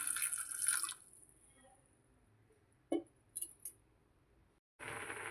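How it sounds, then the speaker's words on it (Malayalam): Water pours onto chopped jackfruit in a cooking pot for a dessert. A short splashing rush opens, then there are quiet drips and light knocks, and a second steady pour comes near the end. "നമുക്കിതിലോട്ട് കുറച്ച് വെള്ളം ഒഴിച്ചു കൊടുക്കാം"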